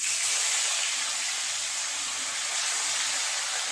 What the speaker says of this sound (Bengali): তেল গরম হয়ে গেছে, মাছগুলো এক এক করে ভেজে নেব।